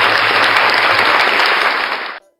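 A loud burst of applause from a church congregation, dense steady clapping for about two seconds before cutting off abruptly.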